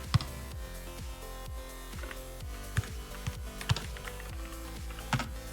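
Rapid computer keyboard typing during a FIFA Online 4 match, sharp close key clicks in uneven bursts over steady background game sound, with no voices.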